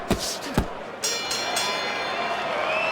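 Crowd applause and cheering in a Fight Night Champion boxing match as a boxer returns to his stool between rounds, a few sharp thuds at first, then a steady, fairly loud wash of clapping.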